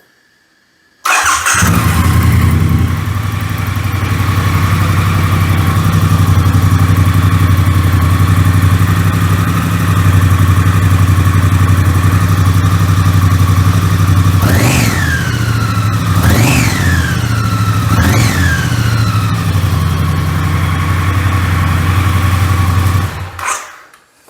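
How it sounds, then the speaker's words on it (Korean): A 2022 Triumph Bonneville T100 motorcycle engine fires up and settles into a steady, throbbing idle, then revs sharply three times before cutting off; loud and close. "엔진이나 이제 배기음 들어보시면 잡소리 하나 없이 컨디션은 완벽합니다"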